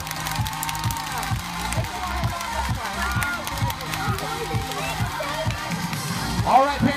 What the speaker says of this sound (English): I want you to clap your hands, grab some of those noisemakers, and get ready to cheer them on.